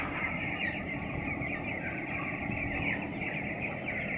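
Chickens cluck and mutter continuously at close range, a dense flock of farm fowl filling the background with overlapping calls and no speech.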